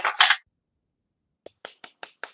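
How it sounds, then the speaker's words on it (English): A handful of soft, sparse claps, five light separate taps spaced evenly after a short bit of muffled voice and silence, a quiet mock golf clap among friends. "Golf clap."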